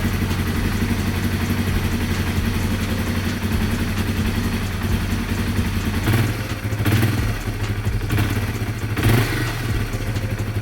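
A rebuilt Yamaha XT225 motorcycle engine runs steadily nearby with an even mid-pitched chug, a few louder throttle blips near the end and no talk over it.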